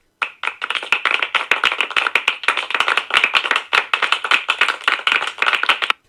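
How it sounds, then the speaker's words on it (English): A crowd in a tavern claps together, with dense, fast and uneven hand claps that keep going steadily from start to finish. The applause is close and loud, with no voices over it. "suddenly everyone began to applaud young Taylor"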